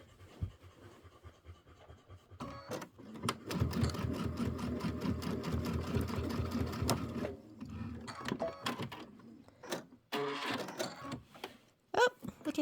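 Sewing machine stitching fabric for a Kimberbell Pumpkins and Potions quilt project, a rapid mechanical chatter running for several seconds at close range, then stopping, with a few softer bursts and handling noises afterward.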